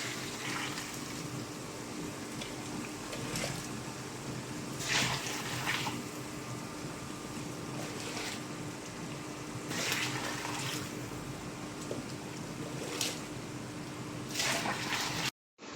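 Hot water splashing and pouring in steady bursts into a pot of rice for chicken biryani, against a constant background hum, with a few louder gushes spaced through the clip.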